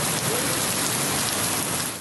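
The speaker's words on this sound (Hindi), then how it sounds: "शेखुपुरा में तेज आंधी के साथ मौसलाधार बारिश से कई दिन से जारी धुंध बैठ गई।" Heavy monsoon-style rain pours down during a strong windstorm in Sheikhupura, a steady dense roar of drops hitting surfaces that stays loud and unbroken throughout with no voices.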